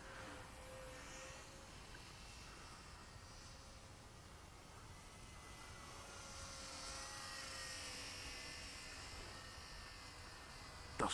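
A 400mm RC model fighter plane flies at a distance, giving a faint, thin, steady buzz that swells and fades slightly as it passes, with no voices.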